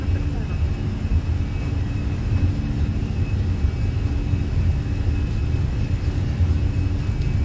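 Fenix airliner on its takeoff roll at Los Angeles in Microsoft Flight Simulator, a steady loud engine roar and rumble that holds throughout with no change in level.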